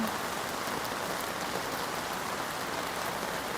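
Rain falls on a village road in rural China, a steady, even hiss of drops that stays constant throughout with no voices.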